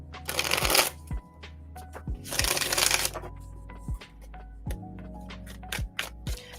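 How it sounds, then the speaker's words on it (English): A full deck of tarot cards being shuffled in bursts of riffling, two long flutters and several short snaps, close and clear with no talking. "I shuffle with a completely full deck"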